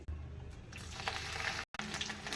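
Gongura leaves frying in oil for pachadi, a close, fairly quiet sizzle that continues steadily for a couple of seconds, broken by a brief cut.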